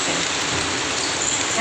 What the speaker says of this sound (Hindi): धूप एंड बारिश साथ में हो रही है